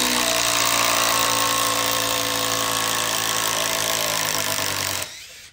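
Makita impact driver on its wood setting driving screws, a loud continuous buzzing hammer whir that runs for about five seconds, then cuts off abruptly.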